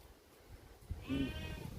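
A sheep on a UK smallholding gives a single drawn-out bleat of moderate loudness, rising out of quiet background noise partway through.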